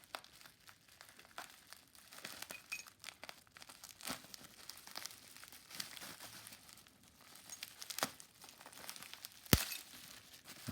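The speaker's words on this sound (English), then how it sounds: "I'll just cut it with a Stanley." Packaging for Action Force and GI Joe figures and vehicles being cut open with a Stanley knife, giving close, irregular crinkling and tearing of plastic and card with scattered sharp snaps, heard alone without talk.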